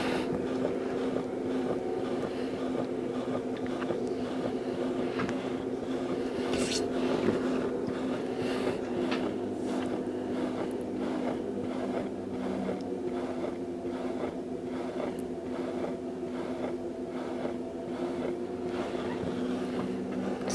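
A potter's wheel spins while clay is thrown off the hump, giving a steady low motor hum with faint rubbing throughout and a voice occasionally talking over it.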